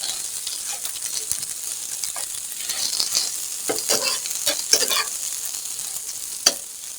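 Potato and onion fry on low heat with a soft, steady sizzle, marked by clustered crackles and a few sharp stirring scrapes close by.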